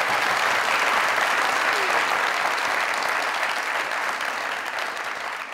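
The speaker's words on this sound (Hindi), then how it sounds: "तालियां।" Studio audience at a comedy talk show applauding loudly and continuously, a thick, steady roar of hand claps with a faint background voice, easing off slightly toward the end.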